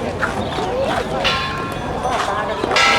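Bright Thai temple bells ring out repeatedly, their clear tones layered over a busy crowd with people talking nearby.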